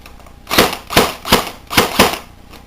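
Four sharp, loud blank-fire shots from a Crosman Pulse R76 airsoft rifle on semi-automatic, fired one at a time at an even pace, each a crisp crack with a short tail, no talking.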